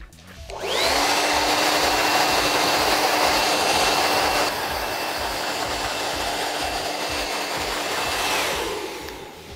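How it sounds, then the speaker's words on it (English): Hair dryer blow drying hair, a loud steady rushing whoosh with a tonal motor whine, switching on sharply, shifting slightly in pitch midway and running alone for several seconds before winding down. "if you start blow drying hair from very wet, it can take quite a long time and can be quite difficult"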